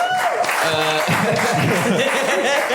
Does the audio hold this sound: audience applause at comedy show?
yes